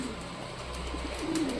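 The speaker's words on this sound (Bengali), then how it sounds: "এই খাঁচার উপরেই তো অর্ধেকের বেশি পায়রা রয়েছে" Pet pigeons perched on top of their cage give a soft, low cooing against a steady background hiss, faint and fairly close.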